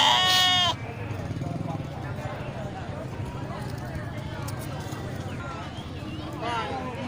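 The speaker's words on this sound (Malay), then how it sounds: "Ya, banyak domba jantan ya." Rams bleat at a livestock market, a loud call up front and another near the end, with a busy crowd murmuring and people talking throughout.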